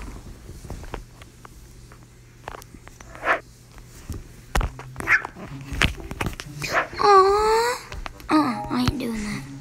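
A dog in a dog simulator video game whines and moans in a few rising, drawn-out cries near the end, close and fairly loud among scattered game thumps, footstep-like taps and a steady low hum.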